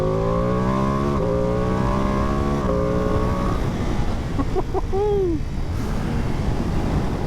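A Ducati Panigale V2S motorcycle engine revs up through a rising series of gear changes with quick shifter blips, then the throttle drops away, loud and close throughout with steady wind rush.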